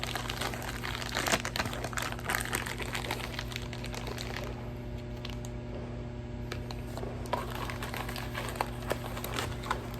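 A plastic bag rustling and crinkling at close range while parts from a tie rod kit for a 1994 Jeep Cherokee XJ are packed away, heard as soft intermittent crackles over a steady background hum.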